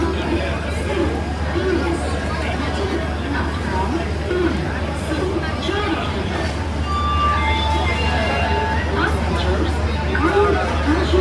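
An Indian Railways train travels between Bengaluru and Dharwad, with a steady low rumble and rattle from inside the coach running throughout under a continuous babble of passengers' chatter.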